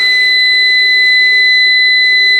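An inverter's buzzer sounds on power-up with a loud, steady, high-pitched electronic tone that holds for the whole stretch, faintly pulsing, over a low hum, with no speech.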